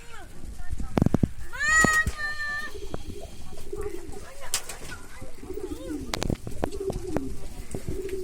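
Breeding pigeons coo in soft throaty bursts among sharp clicks and rustling, with a human voice talking nearby through parts of it.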